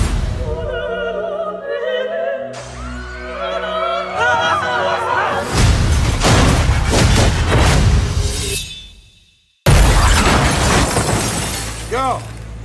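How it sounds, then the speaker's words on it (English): A car smashes through a restaurant with loud shattering glass and crashing debris, a sudden booming impact amid dramatic music, briefly cutting to silence before chaos resumes, with voices shouting. "You smashed the car through a restaurant!"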